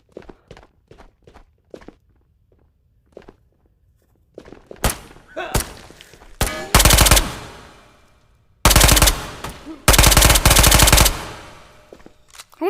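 Automatic gunfire in the VR shooter Ghosts of Tabor: after scattered footsteps and thuds, several loud, dense bursts ring out close by, separated by short pauses.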